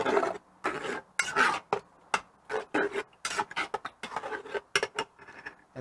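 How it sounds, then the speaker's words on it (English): Someone stirs and scrapes creamy tomato soup ingredients together in a pot, making a series of close, rasping strokes in an irregular rhythm with short pauses between them. "I'm gonna mix all that in there."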